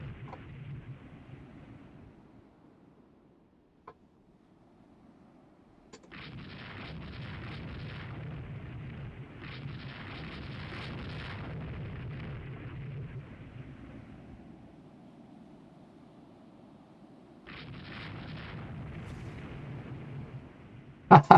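Torpedo hits on a ship in the naval video game Rule the Waves 3 produce deep, rumbling blasts that swell and hang for several seconds, with two separate rolling bursts and a sharp crack at the very end.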